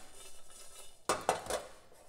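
Black cardamom pods being shaken and moved around in a hot pan while making pho, a few quick dry rattles and clinks against the metal, faint and close.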